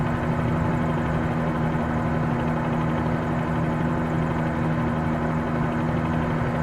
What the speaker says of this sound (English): This helicopter flies really well.